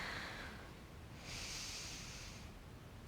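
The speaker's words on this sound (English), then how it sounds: "And you breathe." Soft, close breathing during a gentle yoga hip flow: a quiet inhale followed after a short pause by a longer, airy exhale, with no talking.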